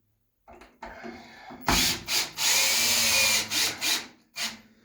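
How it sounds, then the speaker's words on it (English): A power drill drives screws into the hinge side of an exterior cold-storage door, giving several short bursts of loud whirring separated by brief pauses, with light rubbing and handling noises between them. "You don't need to screw it in tight, just go in a little bit."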